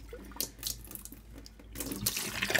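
Alfalfa sprouts are rinsed and swirled in water, giving close splashing and sloshing with a running-tap wash that swells louder toward the end.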